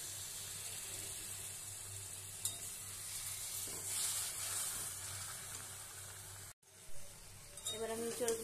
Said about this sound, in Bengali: মশলাটা সেদ্ধ হওয়ার জন্য আমি একটু এর মধ্যে জল ঢেলে দিচ্ছি